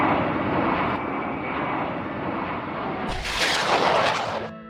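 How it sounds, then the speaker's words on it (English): A jet airliner's engines drone in flight, a dense, steady roar that swells louder and brighter toward the end before trailing off. "the hum of jet engines filling the cabin"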